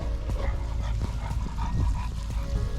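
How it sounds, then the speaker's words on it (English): A dog pants rapidly and close by after a run, a continuous breathy rhythm over a low rumble from a jet ski engine. "All you can probably hear is the dog."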